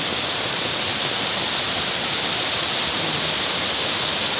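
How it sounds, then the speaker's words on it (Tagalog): A rain-swollen mountain stream in flood rushes in a loud, constant roar nearby, with no breaks or other sounds standing out. "Akala mo, ang laki ng sapa namin."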